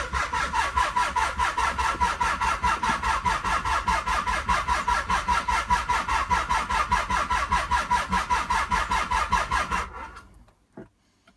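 A Z car's engine cranks on three sets of jumper cables, its starter turning over in a fast, steady, rhythmic churn for about ten seconds without catching, then winding down into silence.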